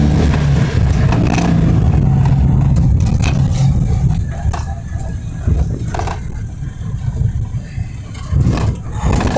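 A 1986 Citroen Acadiane's small engine pulls hard while driving, a loud, steady drone from inside the cabin that eases and swells through gear changes, with some rattling and knocks.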